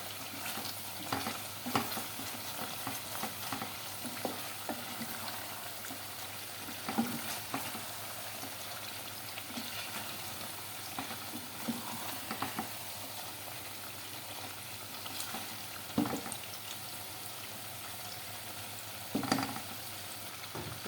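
A spice mixture with green and ground chillies being sautéed in a pan, a steady close sizzle and fry with occasional spoon scrapes and stirring knocks.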